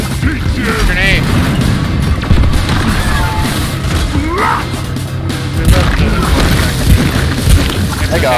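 Grenade blasts and crashing impacts in a chaotic video game firefight, loud booms and smashing hits layered over steady low rumble, with players talking over the action.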